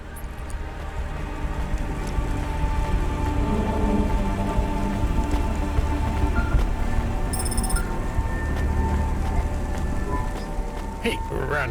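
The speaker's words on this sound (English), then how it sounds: "Don't let all the rain get you down." Steady, dense rain pours continuously in the sci-fi city game Cloudpunk, a constant wash of drops on surfaces with a faint tonal hum beneath, no talking.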